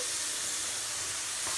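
Tomato puree hits hot oil with frying rice for Mexican red rice, giving a steady, close, bright sizzle and hiss that swells slightly near the end, with no talking.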